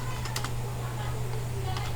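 Typing on a computer keyboard, a quick run of light clicking keystrokes over a steady low hum, close and fairly clear.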